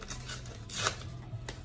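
Strips of paper being cut and ripped for a craft canvas of 3D grass, giving a few soft snips and tearing rustles close by over a low steady hum, with one brighter cut near the middle.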